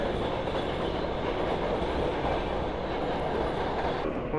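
A New York subway train runs on its rails with a continuous loud rumble and roar, with faint clickety-clack and wheel noise throughout and no voices.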